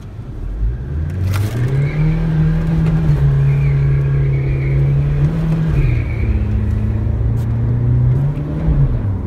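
Remapped Chevrolet Colorado 2.5 pickup with manual gearbox accelerating hard, its engine drone loud and close from inside the cab, rising through the revs with a brief gear change and climbing again, steady and continuous throughout.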